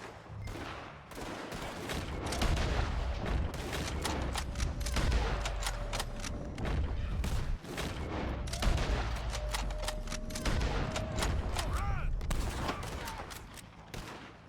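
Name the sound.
gunfire in video game Red Dead Redemption 2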